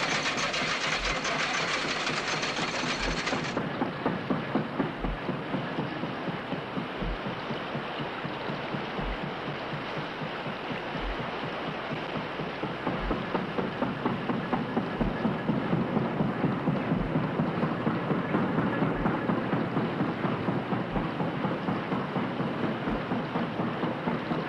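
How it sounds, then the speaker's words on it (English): A donkey engine winches a log boom across a lake during a log drive, its steady rhythmic chugging thumps repeating about once a second, close and dominant, with a hissing mechanical wash over it and no voices. "They winch themselves across with their donkey engines."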